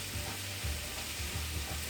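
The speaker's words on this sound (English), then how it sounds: "we can hear our chicken sizzling in the background" Chicken for Moroccan Casablanca chicken sizzles as it browns in a pan, a soft, steady crackling hiss that continues throughout with no talking.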